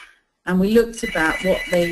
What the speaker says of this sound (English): oops, hang on, that's my phone, which I didn't turn off, sorry.